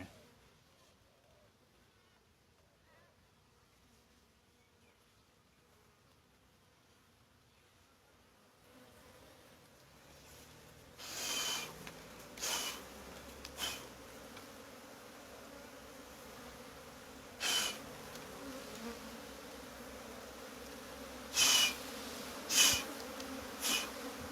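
Thai cavity-nesting honey bees buzz at a hive, a quiet hum at first that swells into a louder, steady close drone with a few brief bumps and knocks.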